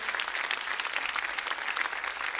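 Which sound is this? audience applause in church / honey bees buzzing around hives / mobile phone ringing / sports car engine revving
audience applause in church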